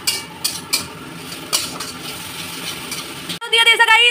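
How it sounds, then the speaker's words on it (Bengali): Spice masala with turmeric and chili powder stir-fried with water in a pan at home, a spoon scraping and clinking in short strokes, then a louder burst of sizzling as liquid hits the hot pan near the end. "মশলাটাকে জল দিয়ে কষাবো"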